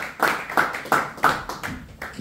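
Rhythmic hand claps at a Friday evening church service in Montreal, about six strong beats in a steady pulse, close and reverberant, sounding like a congregation clapping together.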